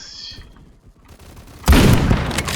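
A shotgun fitted with chainsaw grips blasts in a video game, a sudden loud burst that cuts in after a quiet stretch and rumbles on to the end.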